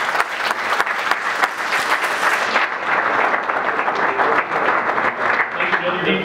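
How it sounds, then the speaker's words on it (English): Sustained audience applause fills a council candidate forum at a banquet venue, dense clapping from a large crowd continuing steadily throughout. "Give them another round of applause,"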